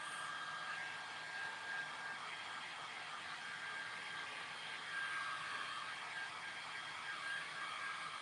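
A hair dryer blows steadily on a heart-shaped paper mache box, a constant close whooshing whir that holds an even level from start to finish with no speech.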